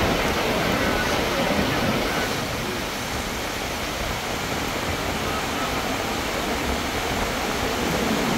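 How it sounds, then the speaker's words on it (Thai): Heavy downpour at Ban Pong railway station in Thailand: a dense, steady hiss of rain, constant and fairly loud from start to finish with no clear break. "ในช่วงฝนถล่ม นี่ก็ถ่าย 4K ไปเลยแล้วกันนะครับได้ชมบรรยากาศฝนช่ำ"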